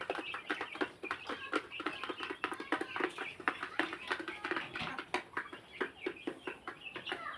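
A hen clucking on a farm among other chickens, with repeated short clucks in an uneven, busy rhythm, fairly close and steady throughout, with no talking.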